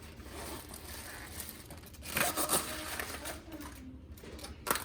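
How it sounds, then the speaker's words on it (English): Cabbage being shredded for sauerkraut, quiet rasping and scraping strokes with a few sharper crunchy cuts midway and near the end, close and soft. "The first step is to shred the cabbage."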